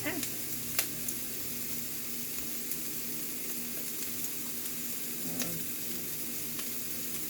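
Chopped mushrooms sizzle steadily as they cook down in a pan, a soft continuous frying hiss with a few faint clicks of stirring, close and moderate in level.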